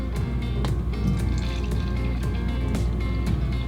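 Pilsner beer poured into a glass, a steady liquid fill with gurgling and dripping detail running continuously at close range for the whole moment, no talk.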